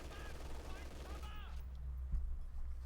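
Bursts of MG42 machine-gun fire in Company of Heroes 2 rattle steadily beneath a voice talking over the battle, with the gunfire blending into a dense, continuous wash for the whole stretch.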